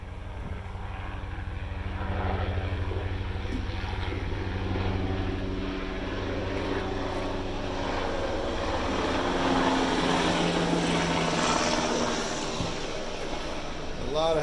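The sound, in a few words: Army training helicopters flying overhead, Fort Rucker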